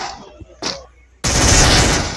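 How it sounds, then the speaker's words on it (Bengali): MP5 submachine gun fire in the mobile shooter Free Fire: a couple of quick single shots, then a sustained loud, dense burst of automatic fire running to the end. "যখন আমি MP5টা নিয়ে মারবো গাই"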